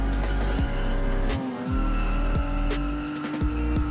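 A car drifting on the Serres race track, engine roaring loud and close with rising and falling revs and tire squeal through repeated slides and gear changes.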